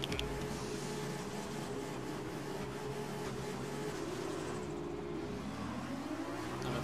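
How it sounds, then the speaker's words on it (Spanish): Formula racing car engines in the F1 2020 racing game drone at high revs, a steady loud whine with shifting engine tones that rise and fall as the cars race, with no talk over it. "Escucha cómo son los motores"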